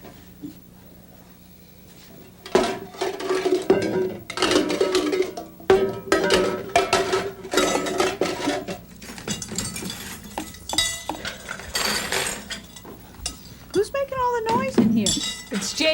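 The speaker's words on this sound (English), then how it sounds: "Hey, JJ, so you're the one that's been moving all the dishes." Dishes, glassware and cutlery clink and clatter as they are shifted around in a kitchen, repeated close, bright rattles coming in bursts, with people talking in between and over the noise.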